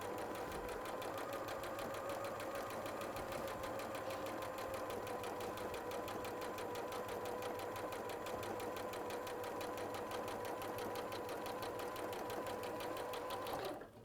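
A sewing machine runs steadily for about fourteen seconds, stitching a quilt block with an even, continuous mechanical whir that stops abruptly at the very end.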